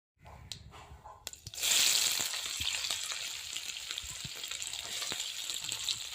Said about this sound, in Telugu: సరిపడా ఆయిల్ వేసుకుని హీట్ అయిన తర్వాత దీంట్లో ఆవాలు జీలకర్ర అలానే ఉల్లిపాయలు వేసుకుందాం